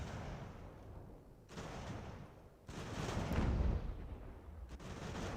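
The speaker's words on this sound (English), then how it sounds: "Enemy artillery is a problem." Enemy artillery from a battle near Boston in Ultimate General: American Revolution, booming in several loud, rumbling volleys separated by brief lulls, no voices over it.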